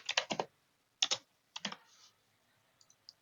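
Fingers type on a computer keyboard in short, quiet clusters of rapid clicks separated by brief pauses, followed by a few faint taps.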